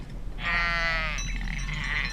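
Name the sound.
Columbia sheep bleating on an Oregon ranch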